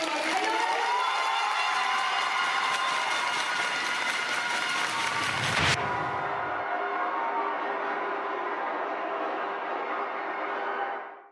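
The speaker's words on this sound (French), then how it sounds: "On applaudit" An audience at a 2024 finale event applauds and cheers loudly over music, the clapping breaking off abruptly about halfway through while the music carries on steadily.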